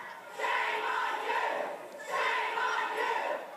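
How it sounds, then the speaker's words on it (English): Crowd at a support staff and education assistants' union rally heckling and booing Minister Peter Collier, two sustained swells of shouting and jeering voices, loud and dense, with a brief dip between them. "Peter Collier was heckled and booed"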